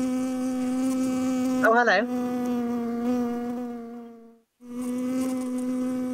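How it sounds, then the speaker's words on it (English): A bee buzzes outdoors close by, a steady loud drone that wavers briefly and cuts out for a moment before resuming, with a man's short spoken greeting partway through. "Can you hear a buzzing, Mayor? Sounds like a bee."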